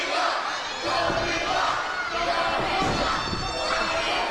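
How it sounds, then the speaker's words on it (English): A wrestling crowd in the Hanford Civic Auditorium yells and cheers loudly during a lucha bout, with surging shouted chants rising and falling over a steady roar. "The crowd here at the Hanford Civic Auditorium trying to get behind Koto Hiro"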